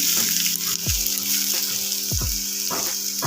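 Cauliflower frying in a pan with oil, giving a steady loud sizzle throughout, broken by a few soft stirring scrapes and low thumps as the pieces are turned.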